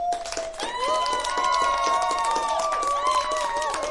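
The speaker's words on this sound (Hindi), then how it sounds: "बच्चों एक बार जोरदार तालियां हो जाए इस बच्चे के" Schoolchildren in a classroom clap together for a classmate, a dense, steady patter of hand claps mixed with raised young voices calling out over it.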